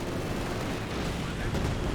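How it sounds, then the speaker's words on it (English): Artillery from a British officer ability in the World War II strategy game Company of Heroes: a dense, continuous rumble of distant shelling and blasts, with no clear separate impacts, holding steady for the whole stretch. "Looks like it's the British officer artillery."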